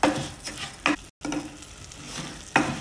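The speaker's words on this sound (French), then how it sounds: "je le fais bien revenir dans le beurre" Rice sizzles and fries in melted butter over high heat in a pan, with a steady crackle broken by several sharp scraping stirs and a brief silent gap.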